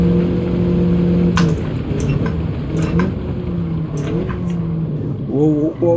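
Race car engine in the Gran Turismo 7 video game, a steady sustained drone with harmonic whine shifting pitch as gears change near the end, loud and continuous with faint voice beneath.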